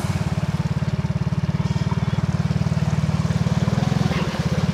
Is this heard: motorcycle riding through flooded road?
yes